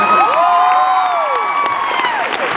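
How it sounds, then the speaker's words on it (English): Live audience at VidCon 2014 cheering, whooping and clapping in a big hall, a loud continuous crowd roar with high shouts rising over steady applause throughout. "Yeah, clap for him"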